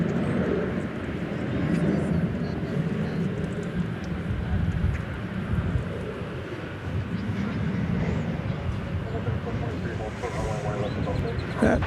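American Airlines flight 1155 at DFW Airport, a steady broadband jet engine roar that holds at a fairly constant loudness throughout, with a voice talking over parts of it.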